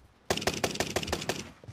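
Rapid automatic gunfire from a low-recoil rifle with a 40-round magazine in a competitive online shooter match, a burst of about eight evenly spaced loud shots lasting just over a second, with no talk over it.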